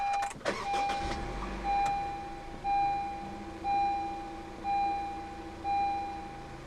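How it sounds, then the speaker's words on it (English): A 2015 Honda Civic 2.0 with push-button start, a brief engine crank and catch near the start, followed by a repeating chime tone at regular intervals over a low idle hum. "Put your foot on the brake, and press the start button to the left of the steering wheel"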